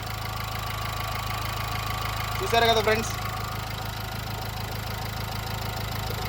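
A low, steady idle of a 2014 Renault Duster 4x4 diesel engine hums throughout with a rhythmic knocking, while someone speaks briefly partway through.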